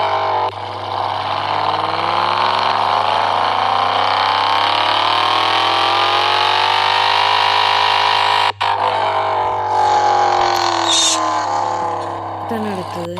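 A car in Kerala idles steadily with a newly fitted aftermarket silencer, a loud, even exhaust drone that holds continuously close to the microphone with a slight swell in pitch midway.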